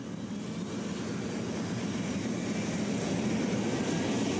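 Labrador, a big twin-rotor helicopter, warms up her engines on the base, a steady broadband whine and rumble that slowly swells in loudness without any break.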